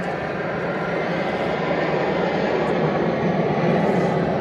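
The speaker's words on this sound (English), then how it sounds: "It is Alaska Airlines going to Seattle." An Alaska Airlines jet departing Nashville International Airport for Seattle, heard as a steady, broad roar of engine noise that stays constant and fairly loud throughout, with no voices.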